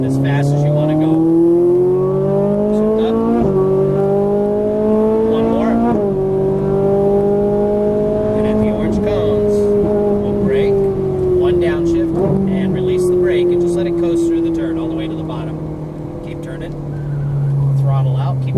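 A Ferrari 458 Italia accelerates around a racetrack at Exotics Racing in Las Vegas, its engine climbing in loud sustained pitch with several gear-shift breaks, steady and close, while an instructor talks over it.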